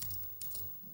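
A short burst of typing on a computer keyboard, a few quick soft key clicks close by with no talking.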